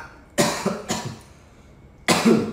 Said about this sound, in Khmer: បិទម៉ាស់ប៉ុណ្ណានៅក្អកទៀត